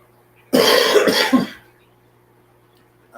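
A single close burst of coughing, one harsh hacking fit of about a second with a throaty clearing at the end, heard alone against a quiet background hum.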